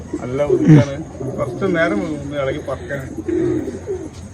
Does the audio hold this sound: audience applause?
no